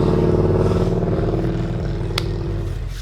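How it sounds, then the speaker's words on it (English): Loud cars pass by outdoors on a bright sunny day, a steady low engine rumble and revving filling the background throughout, with a brief sharp clatter near the end. "Loud cars out there."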